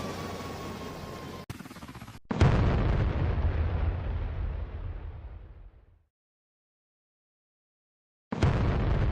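A game aircraft crashes and explodes in a flight chase on VRChat: a short burst, then a loud roaring blast that rumbles on for several seconds and cuts out, with a second loud burst starting near the end.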